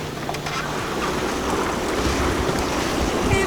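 Boat engines run steadily on open water during the MYC Montgomery sailing race, a continuous low drone mixed with wind, waves and microphone buffeting throughout.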